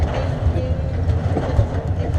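The Calico Ghost Town ride train rumbles low and steady as it pulls into the depot, with faint rhythmic clacks under a constant rolling drone and no voices heard.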